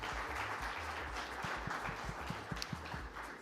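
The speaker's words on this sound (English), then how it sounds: "Ladies and gentlemen, let's give a huge round of applause." Quiet applause from a conference audience at an industry technical event, a faint, diffuse patter of clapping with some low thumps and handling noise underneath.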